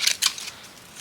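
Scissors cut through vellum paper in two quick, crisp snips close by, then a short quiet tail.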